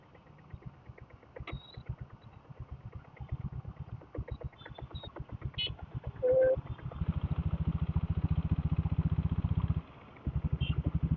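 A diesel Bullet motorcycle on a rainy ride thumps with a steady low beat, then revs into a louder, faster pulse partway through before briefly dropping off and resuming, with a short high chirp near the middle.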